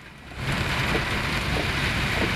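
Heavy rain pouring down in Bangalore, a dense, steady hiss of rainfall hitting surfaces close by, swelling slightly louder after the first half second and holding constant with no talking.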